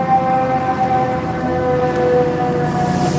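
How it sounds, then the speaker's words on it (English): A fire truck siren wailing at night in the Bronx, New York, a steady drawn-out tone heard over loud constant city rumble, somewhat distant, with no talking. "Fire truck somewhere."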